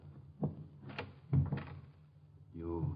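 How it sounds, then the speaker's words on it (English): A door closes with a dull thunk and a few softer knocks in a 1950 NBC radio drama, set against quiet room tone with a faint voice at the end. "Close the door."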